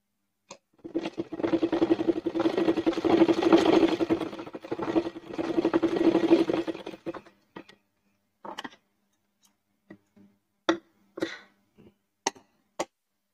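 A sewing machine stitching baby frock fabric runs in a steady whirring burst of about six seconds with a short pause near the middle, then stops and is followed by a few sparse clicks and taps.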